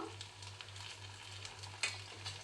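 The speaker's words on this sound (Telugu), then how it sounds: "అన్నీ ఇలా తిప్పేసుకొని మంచి కలర్ వచ్చే వరకు ఫ్రై చేసుకుందాము" Semiya (vermicelli) tikkis sizzle gently in a pan as they fry, a soft, constant crackle with a low hum underneath and a brief louder scrape of stirring.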